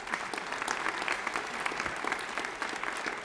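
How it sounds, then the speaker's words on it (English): Legislators and guests clap during a governor's State of the State address in a chamber, a steady, sustained wash of applause heard from a distance, fairly quiet throughout. "You can clap for that"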